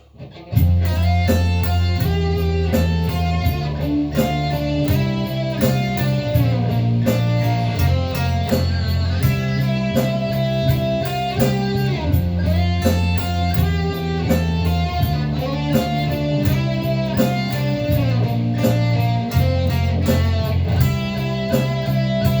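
A lead guitar plays a flowing melodic solo over a steady backing track of bass and drums, loud and continuous with no talking.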